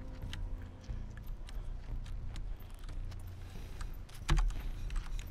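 Someone presses keys on a computer keyboard in a room. The taps are quick and irregular, with a louder knock near the end, and no talk is heard.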